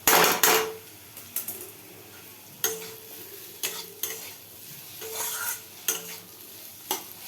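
Watermelon rind fried with rubbed garlic in a pan gives a steady low sizzle, broken by repeated sharp clanks and scrapes of a spatula stirring against the metal, close by and with no voices.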